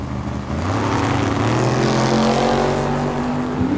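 Small-block Chevy drag cars, one a 1967 Chevelle, at Tucson Dragway: a loud, sustained engine roar that rises steadily in pitch as the cars accelerate away, heavy and close with no talking.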